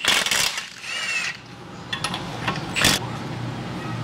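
Air impact wrench working on the suspension of a squarebody Chevrolet Suburban during lowering, giving loud bursts of rattling hammering with metallic clinks and shop noise, fairly close.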